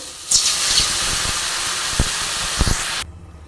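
Water poured into a pan of frying drumsticks and potatoes bursts into a loud, steady steaming hiss and sizzle that holds for about three seconds, with a few clanks of a utensil, then cuts back to a faint low hum.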